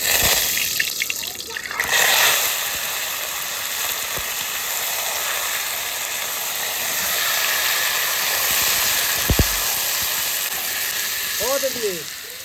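Duck meat going into hot mustard oil with cumin seeds, a steady close hiss and sizzle of frying that runs throughout, with a few clinks and brief scraping sounds along the way.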